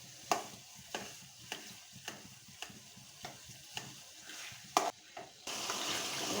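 Coconut milk boils down into coconut oil in a pan, with a series of evenly spaced stirring scrapes followed by a steadier bubbling sizzle near the end.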